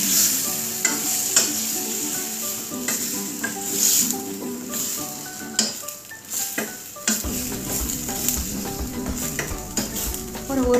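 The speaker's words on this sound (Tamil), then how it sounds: "ஒரு 1 நிமிஷம் இது நல்லா வதங்கட்டும்" Masala paste sautéing in a pan for potato gravy, a loud close sizzle broken by frequent spoon scrapes and clatters against the pan, with no voices.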